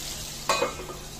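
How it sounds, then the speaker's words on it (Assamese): Tomatoes roasting in a pan for tomato chutney, a steady close sizzle with a brief stirring scrape in the middle. "এয়া মই বিলাহীখিনি ভালদৰে এনেকুৱাকৈ পুৰি লৈছোঁ।"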